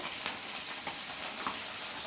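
Fish frying in hot oil in a home kitchen: a continuous, bright sizzle and crackle, with a few slightly stronger pops, steady and close, with no talking.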